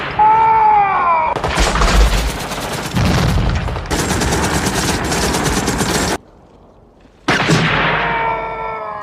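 Heavy gunfire in a war film depicting a Viet Cong attack: sustained bursts of automatic fire and dense volleys, loud and close, with shouted voices at the start and end and a brief lull near the end.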